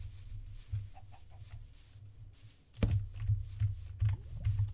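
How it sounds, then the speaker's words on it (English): Chickens clucking in a video game, a run of soft, short clucks at close range that grow louder and busier partway through, with no talk over them. "There's chickens here."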